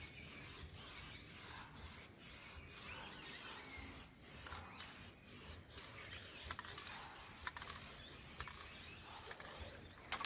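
A Mazda car door being scuffed by hand for paint prep, faint rhythmic rubbing and rasping strokes repeating steadily, close and quiet.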